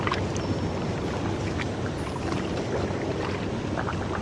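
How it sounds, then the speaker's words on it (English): Steady, close rushing and splashing of water fills the air without pause, a broad continuous wash with no voices. "sound of the water"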